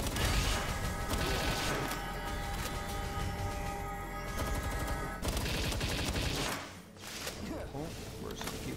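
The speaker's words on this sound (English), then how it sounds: "But machine gun beats you." Machine gun fire in the game Palworld during a tower boss battle: a dense, continuous rattling burst that fills most of the clip with sustained mechanical noise, briefly dipping before resuming, under a voice.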